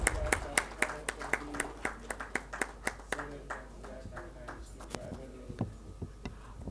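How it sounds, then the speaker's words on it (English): A small audience at a medical education session on ocular surface disorders claps for the panel, distinct rhythmic hand claps from a few people, fairly near, with a faint hum beneath and some talk. "Big round of applause for them."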